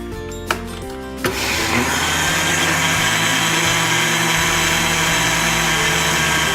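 A blender holding soap and water runs steadily after a couple of clicks as it switches on, a loud continuous whirring motor hum that holds level for several seconds.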